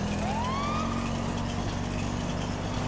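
A broken police car siren in the GTA 5 LSPD:FR mod gives a single faint rising wail that fades out, over a steady low engine hum and constant noise, with no talking.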